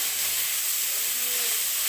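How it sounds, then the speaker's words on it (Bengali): Whole spices tempering in hot red oil for a Bengali potol (pointed gourd) curry, giving a steady, even sizzling hiss that runs unbroken through the whole short stretch. "লাল তেলে ফোড়নগুলো দিয়ে দিলাম।"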